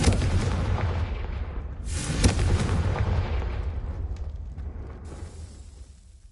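A blasting-spell explosion in Hogwarts Legacy booms loudly, with a heavy rumbling burst early on and a sharper blast around the middle, then a long fading rumble; no speech is heard.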